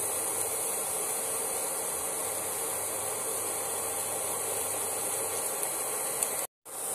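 Spiced cabbage sautés in a pan for a cabbage paratha, giving a steady close hiss and sizzle that holds even for several seconds before cutting out briefly near the end, with no talk.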